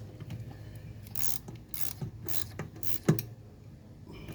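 Bolts on a car project being tightened back up with a ratchet, a series of quiet clicking and metallic ratcheting sounds with a sharper louder click near the end, close by with no talking.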